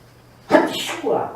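A single sharp sneeze bursts out close by in an otherwise quiet room.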